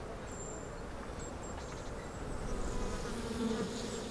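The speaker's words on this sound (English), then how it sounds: "This is where his bees continue to find their food." Bees forage around an old village in Oman, making a continuous, even buzzing drone that holds steady throughout with no voices present.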